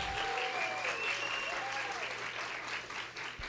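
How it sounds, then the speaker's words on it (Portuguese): Steady applause from a church congregation rolls on throughout, dense and even at moderate volume, with a higher melodic tone and a low hum running underneath. "eu queria que a gente recebesse com uma forte salva de palmas"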